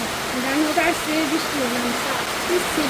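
Heavy rain falling outdoors in a village, a dense steady wash of noise heard throughout while a person talks over it.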